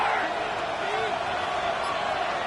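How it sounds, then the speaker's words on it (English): Steady, loud stadium crowd roar in a Madden football game as a third-down play approaches, a dense continuous wash of cheering that stays high throughout without clear breaks. "This crowd into it now as we get to 3rd down."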